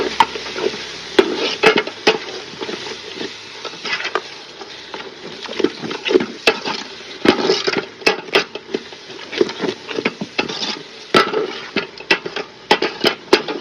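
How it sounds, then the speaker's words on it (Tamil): Chicken biryani being stirred in a pot after yogurt goes in, a close, steady run of scraping and knocking strokes against the pan with faint sizzling, no talk. "இந்த கட்டத்துல வந்து நாங்கள் தயிர் சேர்க்க போறோம் காணுங்க அப்படியே கிண்டிடுவோம்"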